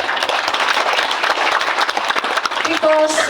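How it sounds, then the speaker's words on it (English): An audience at a financial planning training program for women migrant workers breaks into a brief, dense round of applause, with a voice starting to speak as it ends. "I think you deserve all a round of applause."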